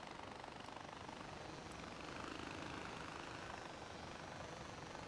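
Helicopter in flight in the video game Far Cry 4, a steady, faint rotor and engine drone that holds evenly throughout with no talking.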